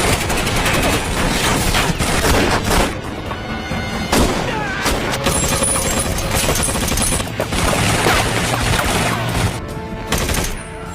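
Film gunfight in which a marine guns down gangsters, with dense, continuous loud gunfire and bursts of shots layered over a busy action-scene mix, running without a break from start to finish.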